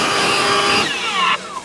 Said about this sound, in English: And then turbo mode. See if I can blow the blower.